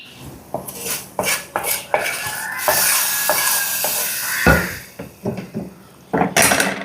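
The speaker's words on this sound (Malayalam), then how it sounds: "ഇനി നമുക്കിത് ഗ്യാസ് ഓഫ് ചെയ്ത് ഇത് കറിയിലേക്ക് ഒഴിച്ചു കൊടുക്കാം" Fried onion and garam masala tempering being poured from a pan into chicken curry, with repeated metallic clanks and scrapes of pots and utensils and a steady pouring stretch in the middle, close and fairly loud.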